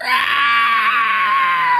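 A human voice imitates a monster's shrieking cry of pain, one loud, sustained high scream of almost two seconds that wavers slightly before breaking off.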